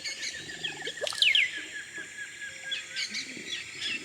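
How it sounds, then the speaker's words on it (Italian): A Montezuma oropendola calling in the Amazon rainforest, with liquid gurgling notes and a rising swoop standing out over a dense steady hiss of insects and other distant birds. "Lei è l'oropendula di Montezumo, forse l'uccello con il verso più strano che abbia incontrato."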